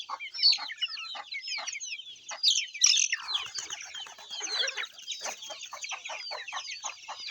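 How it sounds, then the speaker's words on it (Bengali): Several chickens cluck and squawk close by in a wooded setting, in a busy run of short overlapping calls with a louder burst in the middle and no speech. "এখানে আছে দেখা যাচ্ছে মুরগি"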